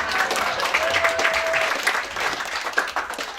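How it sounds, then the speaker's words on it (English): Steady applause from an audience at a limerick competition final in a music venue, dense clapping filling the room continuously with a few louder claps and a faint whistle-like tone partway through. "Give me a round of applause."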